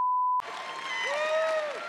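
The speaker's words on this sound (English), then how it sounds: "Get on your feet. Come on. Come on. Get some claps." Applause and cheering rise from an audience at a live sports talk show after a short steady tone cuts off, the crowd noise sustaining loudly with a whistle-like call over it.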